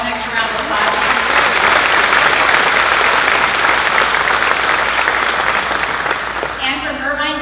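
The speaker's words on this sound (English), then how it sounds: "Can we please give Chief Solano an extra round of applause?" A large breakfast audience gives a loud, dense, sustained round of applause for a police chief retiring after 27 years, swelling evenly before a voice speaks as it fades.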